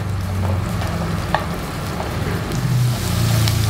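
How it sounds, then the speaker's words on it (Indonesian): Shallots fry in 30 ml of hot cooking oil, giving a steady close sizzle and crackle with a faint low hum underneath and no talking. "Minyak sudah panas, bawang merah masuk."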